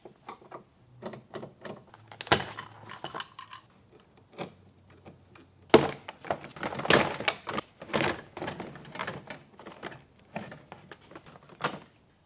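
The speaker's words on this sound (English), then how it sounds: "Now I'm going to go and take the door panel off." A door panel is pried off a second-generation Cummins pickup truck, giving a series of sharp clicks, pops and thunks in irregular bursts, close and fairly loud against a quiet background.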